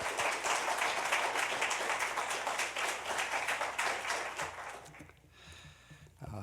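A church congregation gives warm, dense applause welcoming the pastor to a Korean worship service, the clapping fading out after about five seconds into quieter room sound.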